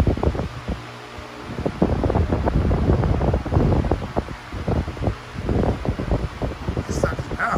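An 18-inch TPI high velocity fan runs on medium speed with a steady, rushing whoosh of air and a low motor hum, close by, with a voice talking over it.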